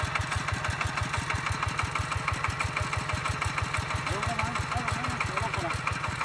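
A vehicle engine runs steadily with a fast, even chugging pulse as it is driven in, holding close and loud throughout, with a faint voice late on.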